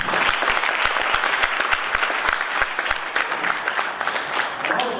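A conference audience applauds steadily after a testing talk, dense clapping filling the room at an even loudness from start to finish, with no voices rising above it.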